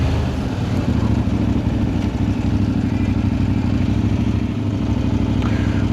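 Kove 800X Pro adventure motorcycle engine droning steadily while riding on trails from Beijing to Hebei, a loud continuous low rumble with wind noise, close and unbroken throughout.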